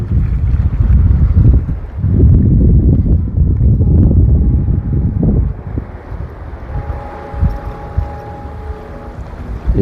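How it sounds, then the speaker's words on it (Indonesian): A ferry slowing to a stop at a harbour in Ternate, a loud steady engine rumble with wind buffeting that drops off midway, leaving quieter idling hum and a faint tonal whine near the end. "Itu kapal feri sudah mulai stop."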